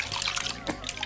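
Water sloshes and splashes in a baby's bath at six months old, a continuous close wash of small splashes and trickles with faint background voices.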